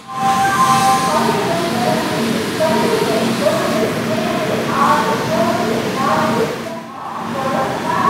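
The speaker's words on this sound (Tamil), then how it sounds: "இப்போ ட்ரெயினு செங்கல்பட்டு ஸ்டேஷனில் வந்துடுச்சு" The Kanniyakumari–Chennai Egmore Superfast Express train at Chengalpattu station, a loud steady rumble from inside the carriage with faint tonal squeals and hums, briefly dipping before resuming.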